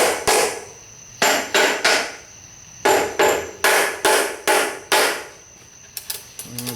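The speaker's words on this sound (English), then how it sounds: "smack with the hammer" A hammer smacks together the engine case halves of a VW short block, landing about ten sharp, loud metallic blows in uneven bursts, some in quick pairs and some spaced apart.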